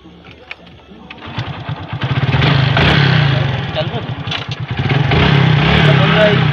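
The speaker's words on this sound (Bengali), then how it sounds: "বাইকটা বের করছি।" A motorcycle engine starts and settles into a loud, steady close-up idle and rev as the bike is taken out at dusk.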